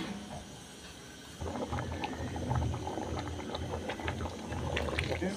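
A pot of beans boiling on the stove, a continuous bubbling rumble that grows slightly louder partway through, steady and close with no speech.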